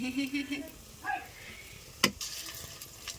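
An omelette fries in a pan, a soft steady sizzle with a few scraping and stirring clicks, including one sharp tap, under quiet background noise.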